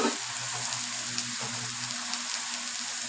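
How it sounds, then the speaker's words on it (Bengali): Chopped green chillies fry with onions in hot oil, a steady close sizzling hiss with small spattering crackles and a faint low hum beneath, fairly quiet and unbroken. "লঙ্কা কুচিটা দিয়ে দিলাম,"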